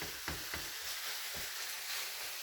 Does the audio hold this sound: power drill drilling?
no